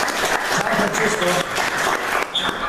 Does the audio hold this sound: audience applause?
yes